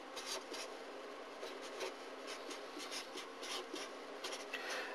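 Someone writes out a polynomial by hand for an A-level maths lesson, producing steady scratchy writing strokes in short, quick bursts over a constant background hiss, with no talking.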